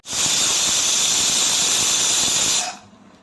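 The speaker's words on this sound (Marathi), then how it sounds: "कुकरची एक शिटी होऊ द्यायची आहे" A pressure cooker whistles with one long, loud, steady steam shriek while broad bean gravy cooks inside, cutting off sharply near the end and leaving a faint hiss.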